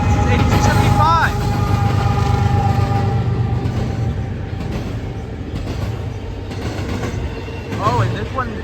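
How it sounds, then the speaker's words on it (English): A BNSF freight train led by engine 8275, hauling ocean container cars from the Oakland yard, rumbles past close by in a steady loud roar with screeching wheel squeals, and a voice talks over it. "here comes the incoming BNSF train"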